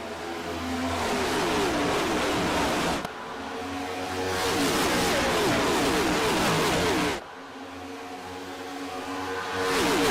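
Stock cars roar at full throttle on a restart at Charlotte Motor Speedway in a racing game, a dense, loud engine drone swelling in waves as cars sweep past, with no talk.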